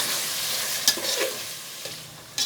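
Ginger garlic paste and salt are stirred into chicken cooking in a biryani masala, with a steady frying hiss and a few sharp, close scrapes of a spoon against the pot.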